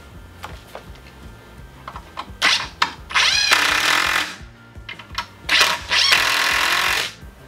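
A power drill drives screws into the legs of homemade storage shelves, sounding as several loud whirring bursts of about a second each, separated by short pauses, over faint background music.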